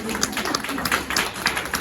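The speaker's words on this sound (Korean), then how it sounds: "박수 한번 쳐주세요." An audience at a Lenten retreat claps together, producing a steady, dense wash of applause that runs through the whole short moment at a fairly close, even level.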